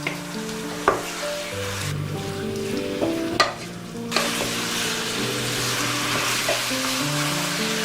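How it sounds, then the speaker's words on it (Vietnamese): Meat is stir-fried with garlic and lemongrass in hot oil, a close, steady sizzle broken by a few sharp clanks of a utensil against the pan. "xào đều lên cho thịt săn lại."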